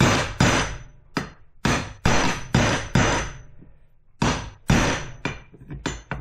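Sharp metallic hammer blows strike a Polaris Ranger drive shaft part to drive it out, about a dozen loud close hits in an uneven rhythm with short ringing decays.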